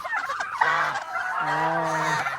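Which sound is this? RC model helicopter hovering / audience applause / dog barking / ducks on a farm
ducks on a farm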